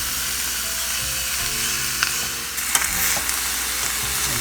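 Pork belly (liempo) frying in a hot pan for adobo, a dense close sizzle holding steady, with a few sharp spatters and stirring scrapes near the middle, no voices.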